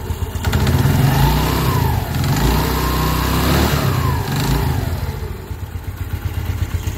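A Yamaha Mio Sporty scooter with a serviced CVT, new V-belt and BRT rollers, revs up and down close by, its engine rising and falling in pitch over a steady idle.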